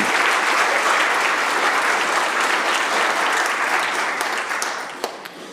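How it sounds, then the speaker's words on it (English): An audience in the BC Legislative Assembly chamber applauds a visiting school band and student MC with steady, dense clapping that holds evenly, then thins and tails off near the end. "Let's all give them a big round of applause and warmly welcome them to the BC Legislative Assembly"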